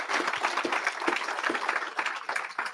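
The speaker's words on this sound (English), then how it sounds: "give the Honorable Eric Johnson a big, gigantic round of applause?" Audience clapping at a July graduation ceremony, a steady patter of many hands held at moderate loudness across the short stretch with no voices over it.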